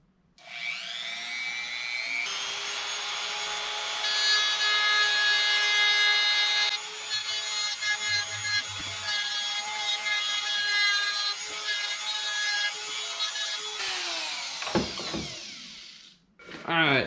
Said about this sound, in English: I just knobbed this out a little bit with the Dremel tool